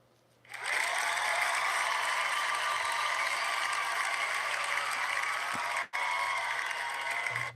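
Cheering and applause from a crowd, loud and sustained with a dense wash of noise, briefly dropping out near the end before resuming.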